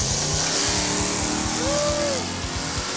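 A drag racing car makes a pass in a Pass Time drag racing gameshow, its engine a steady loud roar with a rising whine midway, heard up close with no talk over it.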